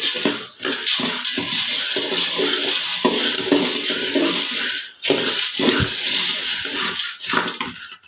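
A curry being stirred in a frying pan in a village kitchen, with continuous scraping and clinking of a utensil against the pan and short pauses between strokes, close and fairly loud, with no voices.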